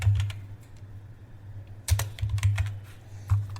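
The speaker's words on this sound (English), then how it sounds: "type your power plan" Quick bursts of clicking keystrokes on a computer keyboard, close and crisp, in short irregular runs with a brief pause in the middle.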